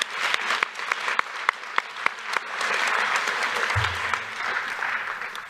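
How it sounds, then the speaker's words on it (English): A small crowd at a youth achievement awards ceremony applauds with sharp individual claps rising into steady clapping, moderately close. "Let's give him a round of applause in his absence."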